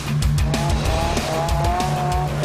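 A Lotus Super Seven sports car drifting on a wet track, its engine droning steadily and loud with rising and falling revs and tire noise throughout, close by.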